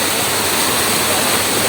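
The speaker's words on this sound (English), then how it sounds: "we have clean water flowing downstream" Steady, loud rushing water flows through a hillside catchment area on Penang Hill, filling the whole stretch with dense, even noise and no voices.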